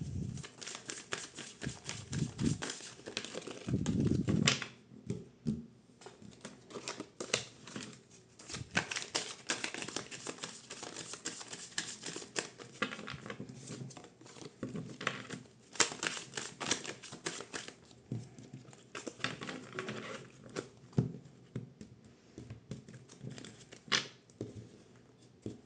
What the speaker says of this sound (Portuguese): Baralhando o baralho cigano